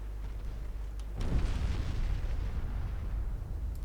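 A torpedo strikes a ship in a naval battle in Ultimate Admiral: Dreadnoughts, a muffled game explosion bursting after a quiet rumble and rolling into a sustained low roar.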